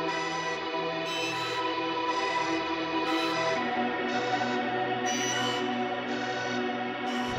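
Chopped pad sample processed through mixer effects in FL Studio, a dense sustained chord progression washed in echo and reverb, with rhythmic chops flickering at the top and a low tone underneath, steady and unaccompanied by voices.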